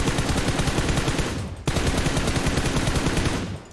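Sustained rapid video-game gunfire, a dense loud burst of automatic shots that cuts out briefly at mid-point and then resumes just as heavily, with no voices over it.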